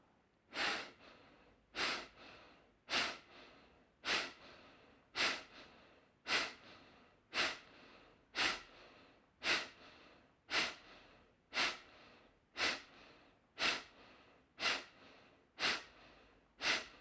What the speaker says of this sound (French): Commencez à faire la respiration du feu à votre propre rythme.